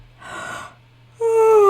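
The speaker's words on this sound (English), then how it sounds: "That's me yawning." A person yawns aloud indoors, a breathy drawn-out intake followed by a louder voiced, falling tone, close and alone against a low steady hum.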